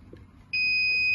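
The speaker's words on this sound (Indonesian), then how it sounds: "maka akan ada sensor beep yang menandakan bahwa gas metana tersebut telah berkumpul dan kipas akan menyala" A methane gas sensor on an automatic trash bin gives a steady high electronic beep that starts abruptly partway through and holds loud and continuous over a faint low background hum.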